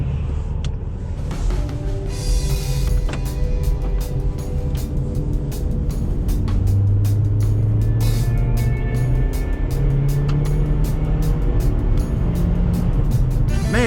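Interior of a 2010 Honda Civic sedan with a small four-cylinder engine accelerating, a steady low drone and road rumble whose engine tone climbs in pitch, with light ticking and clicks inside the cabin.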